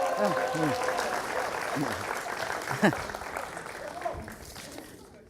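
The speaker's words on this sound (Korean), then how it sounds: "박수 한 번 보내주세요." Applause from an audience at a 2013 political party policy convention in Seoul, steady clapping running through the whole clip under a voice speaking over it.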